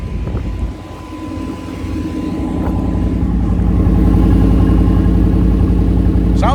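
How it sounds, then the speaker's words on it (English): A fuel-injected 1989 Chevrolet IROC engine cranks briefly, then catches and settles into a loud, steady rumbling idle close by. "Fuel injected, so you don't have to pump the gas, just start it."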